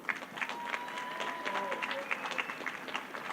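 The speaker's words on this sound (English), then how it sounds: "Round of applause for those readers." Audience applause for graduates who read names at a May 2024 health sciences and STEM commencement ceremony, a steady patter of clapping across the hall with a few louder claps and some voices mixed in.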